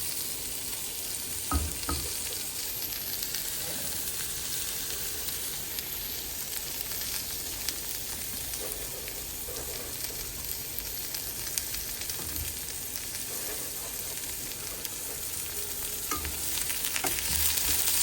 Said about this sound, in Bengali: পেঁয়াজটা ভাজা ভাজা হোক।